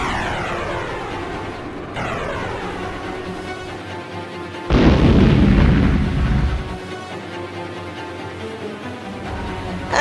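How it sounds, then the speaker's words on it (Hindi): Missiles strike Choo-Choo Charles in a horror train game, a loud sustained explosive roar bursting in midway over a droning aircraft-like engine hum with ringing tonal layers, no voices. "सभी लोग रुक जाते हैं और चूचू चार्ल्स की तरफ एक साथ मिसाइल से हमला करते हैं।"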